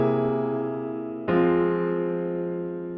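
A dominant five flat thirteen chord sustains, then a second struck chord resolves it to a minor tonic and rings out slowly, close and clear with no talking.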